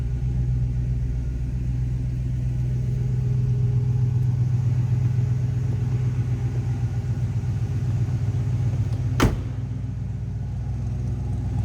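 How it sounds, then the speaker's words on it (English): A 1966 Chevrolet Impala sedan's 283 V8 idles with a steady low, throaty rumble from the exhaust, close and continuous throughout, with a single brief sharp click near the end. "Let's go ahead and fire this up. See how easy that starts? Nice sounding 283 too. Got a little bit of a rumble coming out of it."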